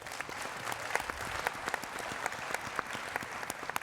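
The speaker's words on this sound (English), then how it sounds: "a round of applause for our guests" A crowd applauds steadily, dense clapping that holds at an even level throughout.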